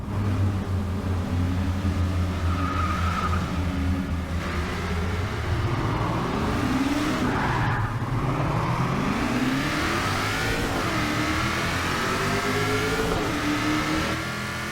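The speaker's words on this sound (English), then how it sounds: "I try to get it to do a standing burnout, but the front wheels just won't lock" A Hot Wheels Mustang in Forza Motorsport 6 revs hard while attempting a standing burnout: a loud, continuous engine roar whose pitch climbs, dips and surges again throughout, close and alone.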